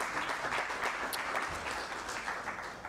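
Applause at a press conference in Ghana honoring a microfinance board chair, a steady round of clapping from a modest audience, fairly quiet and continuous with no talking.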